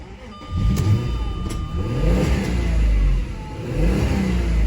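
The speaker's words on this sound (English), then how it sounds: "let's put my foot on the clutch and let's start her up" A manual-transmission V6 car engine turns over and catches, then idles and revs with a steady low rumble, close by.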